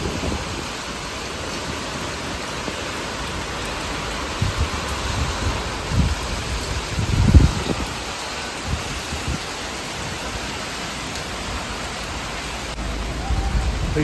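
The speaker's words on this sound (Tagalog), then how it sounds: "Naka-experience kami ni Mama ng bagyo." Steady roar of typhoon wind and heavy rain in Bicol, Philippines, a dense continuous wash with occasional louder gusts and thumps, heard close and without letup.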